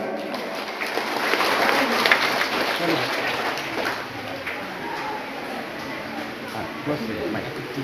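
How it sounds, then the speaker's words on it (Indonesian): Audience clapping at a regional parliament (DPRD NTT) recess meeting, a steady wash of applause lasting several seconds with voices talking over it throughout. "Mulai kita tepuk tangan."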